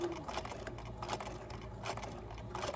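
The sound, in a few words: sewing machine backstitching a seam corner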